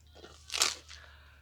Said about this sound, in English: Oh, that sounded crispy. I hope they can hear that crunch in the microphone.